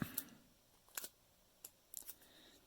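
Several quick, quiet scissor snips, spaced irregularly, cut through thin cassette tape in a quiet room.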